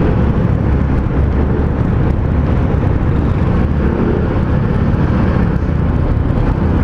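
Steady roar of road traffic heard from a moving motorcycle, with a dense, continuous rumble of engines and wind buffeting at the microphone throughout, loud and unbroken.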